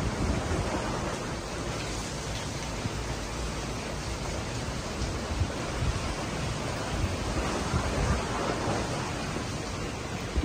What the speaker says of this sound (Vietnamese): Gió đang rất là lớn